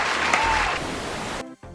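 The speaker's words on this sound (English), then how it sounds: "These people deserve a round of applause." Applause from an audience on a feel-good news show, a broad steady wash of clapping that ends abruptly near the finish.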